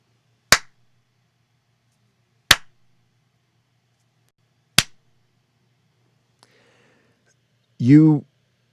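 Three single hand claps ring out in a small home recording space with the compressor and gate switched off, each a sharp crack with a short room tail, about two seconds apart, followed by a brief voice.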